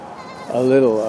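A single goat bleat, loud and close, a wavering nasal cry rising after a moment of quiet background.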